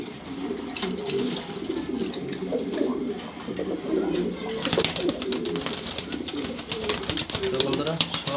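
Grizzle pigeons coo in soft, repeated low burbles, close and continuous, with wing flutters and someone talking over the flock.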